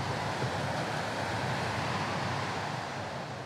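Heavy surf breaking on Oahu's North Shore near the Pipeline break: a continuous loud, broadband roar of crashing whitewater with wind buffeting the microphone, steady throughout with no voices.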